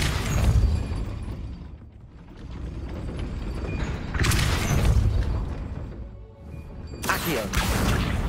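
Depulso spell cast in the Hogwarts Legacy video game, heavy mechanical clanks and crashing booms rolling in three surges, loud and close, with ratcheting, grinding texture between bursts.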